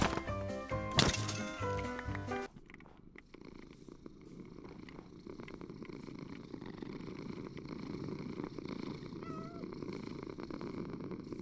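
A cat purring in the Minecraft video game, a soft continuous rumbling purr that runs for several seconds after a brief burst of bright, chiming game music at the start, with no talking.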